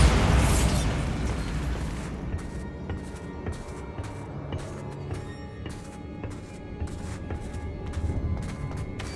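The Bombarda blasting spell goes off in Hogwarts Legacy with a loud, close blast at the start that fades into a long rumble, with scattered crackling debris and clicks continuing throughout.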